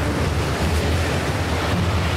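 Strong storm wind roaring steadily and loudly during a British storm, a dense continuous rush with heavy low rumble and buffeting against the microphone, no voices.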